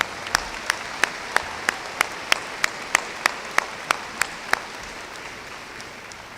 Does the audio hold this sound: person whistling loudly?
no